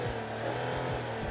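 A 2017 Kia Cadenza's engine hums steadily and close by, a low, even drone with no clear separate start-up burst.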